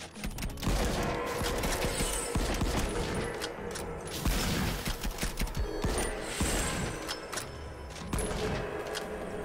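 Gunfire in the VR shooter The Light Brigade, with loud, close shots cracking in quick succession over a busy background of game effects and mechanical clatter, sustained throughout.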